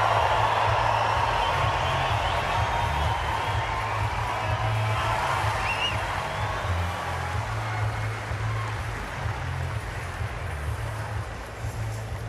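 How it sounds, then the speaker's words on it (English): Dense, steady applause and crowd noise fill Rod Laver Arena at an Australian Open tennis match, a continuous broad wash of clapping heard at a distance that persists throughout without pause. "Resounding applause around this Rod Laver Arena."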